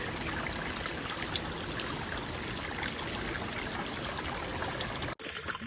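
Water runs steadily from a roadside drinking tap beside a path, a continuous close splashing trickle with no voices.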